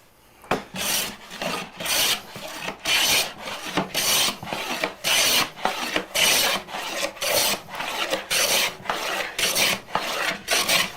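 A hand plane shaves a lumber board in steady repeated strokes, each pass a close, airy rasping wheeze with a brief pause between, about a dozen passes with no voices.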